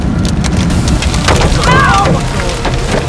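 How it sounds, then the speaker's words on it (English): Large hail, about two inches across, pounds down during a storm chase, a loud dense clatter of impacts on surfaces with heavy rain-like hiss throughout and a brief voice sound partway through. "It's getting hit by the hail, poor thing."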